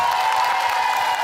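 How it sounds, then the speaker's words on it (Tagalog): A studio audience on the noontime variety show Eat Bulaga claps and cheers for contestant Teresita. The applause is steady and moderately loud, and a faint steady tone runs underneath. "Tignan po natin kung sino yung pinakamalakas sa palakpak"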